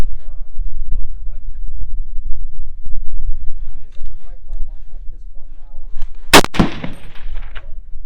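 A single loud rifle shot rings out at a long-range shooting stage in the high desert, a sharp crack with a trailing echo, following a stretch of quieter voices and outdoor background.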